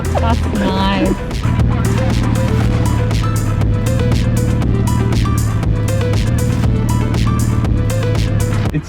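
A Toyota LC300 LandCruiser 4x4 pushes through a soft sand dune in first gear high range, its engine a loud, steady throbbing drone with rhythmic pulsing throughout.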